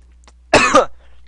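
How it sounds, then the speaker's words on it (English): A person coughs once, a short harsh burst with a throat-clearing edge, close and loud against quiet room tone. "sorry, cough"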